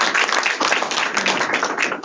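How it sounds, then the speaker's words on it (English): Seminar audience applause at a net-zero energy event, steady and fairly loud, with dense overlapping claps sustained for about two seconds. "Let's give these guys a round of applause."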